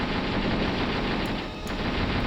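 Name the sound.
T-62 tank firing into trench, video game Steel Armor: Blaze of War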